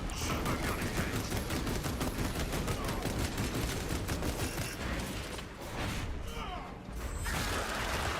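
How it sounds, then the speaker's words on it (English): Servo gun turret in Space Marine, rattling out a continuous rapid stream of mechanical gunfire, loud and dense for most of the span, with a voice speaking briefly under it. "Servo gun engaged."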